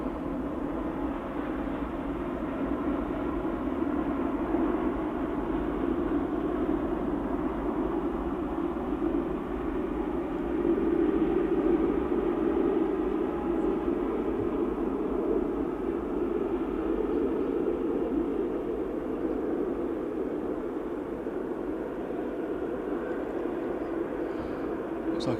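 Airliner at Manchester Airport taking off or landing, a steady, loud and continuous jet engine roar holding level for the whole stretch without letup, swelling slightly midway.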